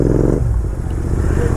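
A Royal Enfield Interceptor 650 motorcycle engine runs with a deep, loud, rumbling idle, close by, with a slight shift in its throb partway through and no talking.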